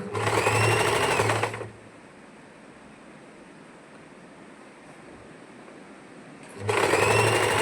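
A sewing machine stitching the neckline of a pleated frock, loud close whirring runs at the start and end with a quiet pause of low hum between them.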